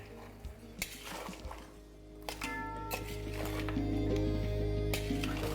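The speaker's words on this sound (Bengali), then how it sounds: "তারপর এটাকে ভালো করে কষিয়ে নিই।" Mutton frying in a pan with turmeric and Kashmiri chilli powder, with a spoon scraping and clinking against the metal over a low steady sizzle, close by and moderately quiet.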